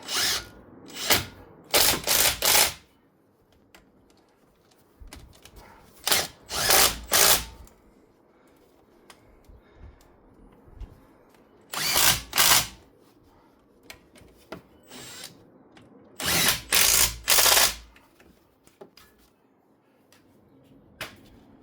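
Impact or power driver snugging down front brake caliper bolts on a 2008 Audi A4 during a brake pad job, in several loud separate bursts of whirring and rattling hammering with short pauses between.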